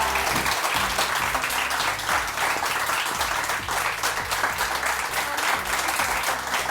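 A studio audience at a Samaa TV morning show applauds loudly and steadily, a dense wash of clapping hands that holds without pause throughout.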